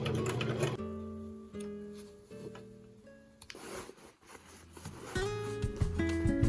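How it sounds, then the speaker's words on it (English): A home sewing machine stitching through a thick stack of vintage kimono obi fabric and lining for a tote bag, bursts of rapid mechanical whirring broken by short pauses, close and moderately quiet. "Sewing through all the layers of the obi and the lining ended up being pretty thick for my machine"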